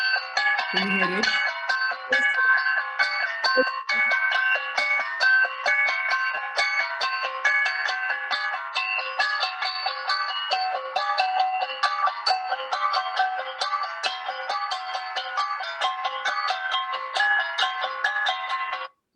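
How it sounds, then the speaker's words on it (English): Bright metallic Kalinga gangsa gong tones ring out in a dense, steady interlocking pattern, played continuously and fairly loud throughout. "that's a very good example of Kalinga Gangsa music"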